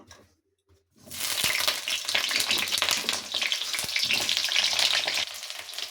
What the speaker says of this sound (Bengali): এবার ওই তেলের মধ্যে আমি পটলগুলো ভেজে নেব